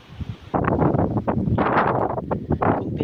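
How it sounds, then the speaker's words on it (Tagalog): Strong gusts on a mountaintop roar and buffet the microphone in rough, rumbling bursts after a brief quieter moment. "Ang lakas na ng hangin."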